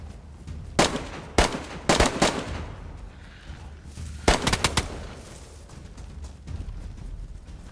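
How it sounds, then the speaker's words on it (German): Gunshots in the game DayZ: sharp single cracks and a quick rapid burst, spaced irregularly over a quiet background. "Schüsse? Ich war das."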